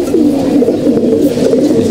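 Resting flying pigeons coo steadily in a loft, a continuous overlapping chorus of low, rolling calls close by with no talk.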